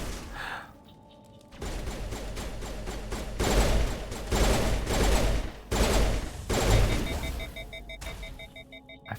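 Burst-fire pistol shots in Mass Effect crack out in clustered volleys after a quiet opening, loud and close, with short gaps between bursts and a faint electronic tone lingering underneath.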